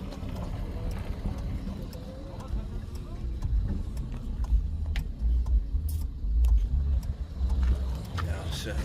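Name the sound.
Moskvich car injector engine running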